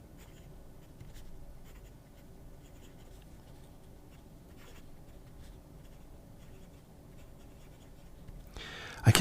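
A Tangmoon Booker fountain pen scratches steadily across paper in continuous close strokes, quiet and unbroken, followed by a brief louder rustle at the very end.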